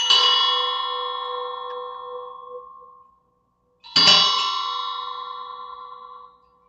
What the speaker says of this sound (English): this is a bell that I just found. Look at this. You can feel the vibration when I hit this.